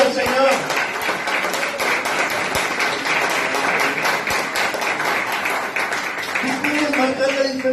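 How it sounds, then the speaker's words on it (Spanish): A church congregation bursts into applause, a dense patter of many hands clapping at fairly close range for several seconds, with speech and voices mixed in toward the end. "Un aplauso al Señor."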